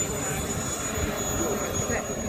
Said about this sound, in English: when Steve throttles up the aircraft